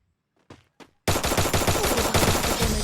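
Rapid automatic gunfire in a Lone Wolf match of a shooter video game, a couple of isolated shots followed by a loud, continuous burst of fast rhythmic fire.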